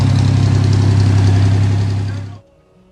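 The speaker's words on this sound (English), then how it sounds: "I don't think I've ever been as happy to hear a truck crank in my life as I have this one" The engine of a 1963 GMC truck, running for the first time in 25 years, idles loudly with a rough, knocking rumble for about two seconds, then cuts off abruptly into near silence.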